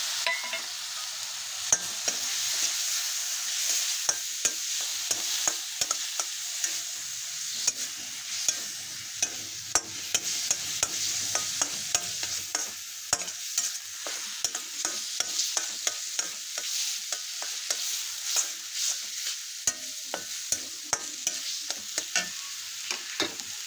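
Tomato gravy hisses and sizzles in a hot pan of frying chole bhaji as it is stirred, a steady close frying crackle broken by frequent sharp scrapes and taps of the spoon, with no talking.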